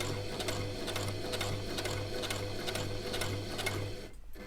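A sewing machine back stitches a fabric face mask in a rapid, even run of needle strokes with a steady motor hum, close and distinct, stopping abruptly near the end.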